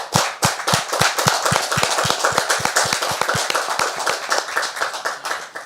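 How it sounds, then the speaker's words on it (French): Audience in a French TV talk-show studio claps in a loud, close, fairly rhythmic burst of individual hand claps lasting several seconds. "Est-ce qu'on peut faire mention spéciale pour elle par des applaudissements"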